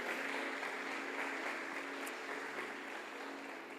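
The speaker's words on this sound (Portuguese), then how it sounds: "Você pode aplaudir a Ele nessa noite" A church congregation applauds during an evening service, giving a faint, distant, steady wash of clapping throughout with no clear speech.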